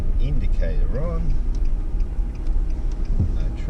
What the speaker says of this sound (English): And indicator on,